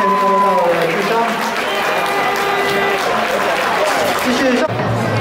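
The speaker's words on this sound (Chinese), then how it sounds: "这是我们董事长以及领队，掌声鼓励。" Stadium crowd at a Lamigo baseball farewell game applauding the club chairman and team leader, steady clapping and crowd noise under an amplified announcer's voice.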